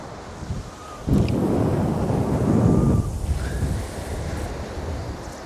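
Strong wind buffets the microphone on the Northumberland coast during shore fishing, a loud gust surging for about two seconds before easing to a steady rushing roar, with no talk.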